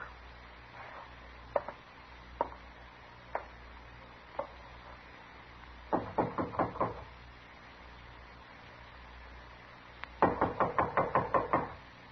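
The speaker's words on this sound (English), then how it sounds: "All right, knock on the door." Someone knocks on a door in an old Western radio drama: a few single spaced knocks, then two quick bursts of rapid repeated rapping, close and crisp with no talking.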